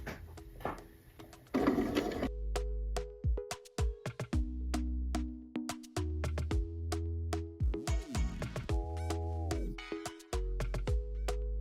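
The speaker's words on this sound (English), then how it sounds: "I'm using a straight stitch here from the bottom of that pocket all the way to the top" A sewing machine runs a straight stitch up a jogger pocket from bottom to top in bursts of rapid mechanical whirring, separated by short pauses, clicks and handling noises, close and fairly loud with no talking.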